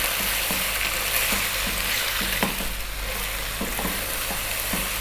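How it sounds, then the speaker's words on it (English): Chopped onion and a spoonful of garlic fry steadily in a pan for Arab-style beef rice, giving a loud continuous sizzle with occasional scrapes and clinks of stirring, with no voices. "Then we're going to add that 1 cup of onion, which I've cut really small. Add a tablespoon of garlic."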